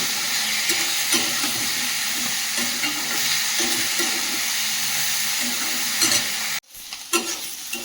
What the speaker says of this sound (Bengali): কষাতে কষাতে সবজি গলে যাচ্ছে, একদম কচি বেগুন উচ্ছে সব কচি।